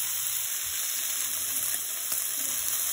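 Meatballs sizzle steadily in a pan, a loud continuous frying hiss with faint stirring and shifting sounds, close up and with no voices over it.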